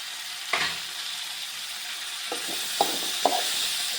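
Tomatoes cooking in a pan for onion chutney, a soft steady sizzle with a few sharp utensil taps and scrapes, close and quiet, with no talking.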